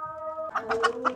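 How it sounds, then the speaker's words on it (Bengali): A pigeon in a village setting near a pond gives a short series of soft, throaty coos, close and clear, following a brief steady tone, with no talk. "এই যে ডাকতেছে কবুতর"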